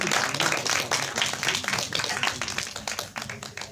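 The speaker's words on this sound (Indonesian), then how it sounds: "Tepuk tangan yang meriah kepada Alex Abad sebagai VJ" Audience at a film cast announcement press conference claps warmly and continuously, a dense, fairly loud wash of hand claps that gradually thins toward the end.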